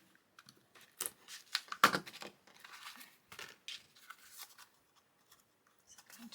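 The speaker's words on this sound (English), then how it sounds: "So I'm thinking that I want to cut it there." Scissors snip through paper for a garden-themed journal page, a few crisp close cuts with light paper rustling and crinkling between them, no talking.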